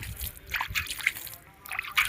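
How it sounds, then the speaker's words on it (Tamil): Water sprinkled by hand over chili seedlings in a nursery bed, giving soft intermittent trickles and patters in short bursts, fairly faint and close. "இந்த மாதிரி தான் தண்ணி தெளிக்கணும்"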